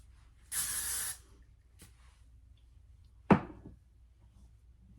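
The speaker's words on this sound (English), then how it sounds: "I might spray those bangs just a little" Two short aerosol hairspray bursts hiss onto synthetic wig bangs, the first about half a second long and the second a quick puff, followed by a soft thunk in an otherwise quiet room.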